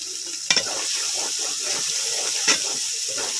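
Spice masala frying in a wok for fish curry, a steady soft sizzle with two sharp clicks of stirring, close and alone without any voices.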